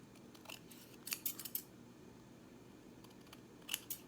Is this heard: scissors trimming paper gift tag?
yes